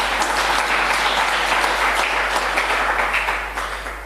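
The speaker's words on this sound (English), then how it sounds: "may we please clap hands for the minister for making sure that this starts here today" An audience at a World Day for Safety and Health at Work event applauds the minister, a dense steady wash of clapping that holds loud for several seconds and then begins to fade.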